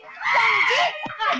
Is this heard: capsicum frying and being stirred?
no